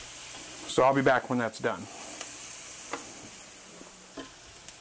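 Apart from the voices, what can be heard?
vegetables sizzling in a pan while cooking down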